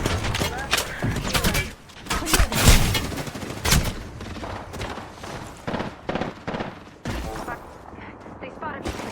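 Bursts of automatic gunfire in the Apex Legends video game, rapid repeated shots with impacts and mechanical clicks, loud and close, mixed with game voice lines.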